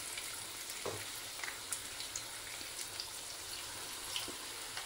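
Battered vegetables such as squash blossoms and friggitelli peppers fry in hot oil in a vegan kitchen, a soft continuous sizzle with a few small pops and a faint splash.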